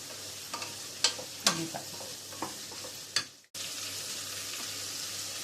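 Sambar onions frying in a pan give a quiet, steady sizzle, broken by a few sharp scrapes and taps of a spatula being stirred through them, with a brief cut before the frying hiss resumes.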